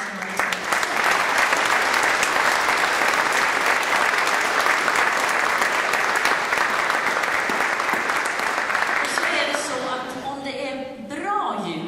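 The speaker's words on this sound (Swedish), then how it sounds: "En varm applåd till alla som har lyssnat." Warm, sustained audience applause at a Christmas concert, filling the room steadily before fading near the end as a voice begins speaking.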